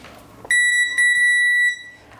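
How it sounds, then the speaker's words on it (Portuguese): A multimeter set to continuity mode gives a steady electronic beep while probing a circuit board, two clear tones close by, the first short and the second held for nearly a second, then a quiet room. "Vamos colocar aqui multímetro na escala de BIP."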